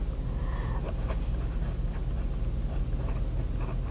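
A scratchy fountain pen writes on paper with Van Dieman's ink, giving a close, continuous scratching with faint stroke-by-stroke texture over a low background hum.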